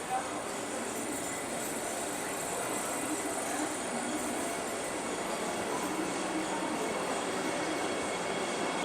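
Nagpur Indore Vande Bharat Express rolling into platform 5 at Nagpur Junction, a continuous broad rumble of train and station noise filling the whole stretch, steady and moderately loud.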